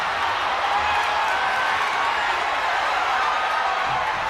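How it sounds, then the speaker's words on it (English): Wrestling arena crowd from the video game WWE 2K25, a dense, steady roar of cheering spectators, continuous and even throughout without breaks. "Taking a moment to get pumped off of this crowd's incredible energy."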